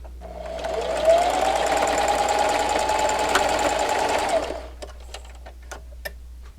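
A sewing machine stitches a kitchen towel scarf in one continuous whirring run of about four seconds, then stops, leaving a few faint clicks and handling sounds.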